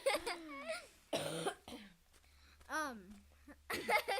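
A voice imitates coughing with a few short cough sounds mixed into animated, excited talking, close to the microphone.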